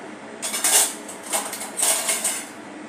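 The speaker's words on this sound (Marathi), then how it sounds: "अशा प्रकारे थोडे थोडे बॅटर घालत आहे" Metal spoon clinks and scrapes against a bowl or pan while batter is spooned onto sliced potato snacks, a few close, bright taps in quick succession.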